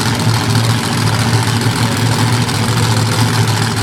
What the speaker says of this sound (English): The Ford Performance engine in the back of this thing, cranking out all kinds of horsepower.